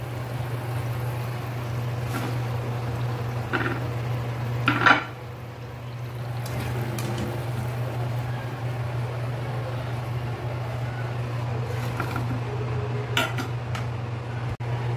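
Metal utensils clink and scrape against a pan as fried pakoras are lifted out of oil into a vessel, with a few sharp knocks over a steady low hum.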